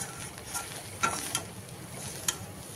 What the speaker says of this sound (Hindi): और अच्छे से मिक्स कर देंगे इसको भी, मखाने के पाउडर को